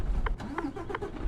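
Car engine in a driving game stalls and sputters, turning over in short repeated pulses near the listener.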